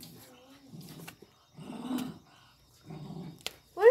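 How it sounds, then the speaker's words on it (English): A small dog growls in low, rumbling bursts indoors, several separate growls with short pauses between them, close to the microphone, with a short high sound near the end. "What is Gizmo growling at?"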